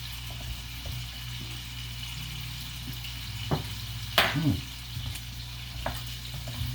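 Monkfish fries in butter in a tilted pan, a continuous close sizzle and crackle with a few clinks and a short scraping swell partway through, no talking.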